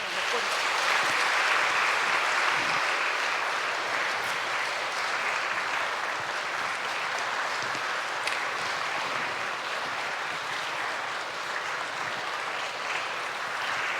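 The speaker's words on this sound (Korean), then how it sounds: "박수 쳐주세요." A church congregation applauds during a Palm Sunday worship service, a sustained, even wash of many hands clapping that fills the room for several seconds and fades slightly toward the end.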